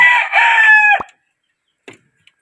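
A rooster crows once, loud and close beside a chicken coop, the call breaking off sharply, followed by two faint knocks in the quiet.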